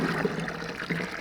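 Water pouring and trickling onto a vegetable garden bed, a soft continuous splashing flow at close range lasting a moment, with no voices.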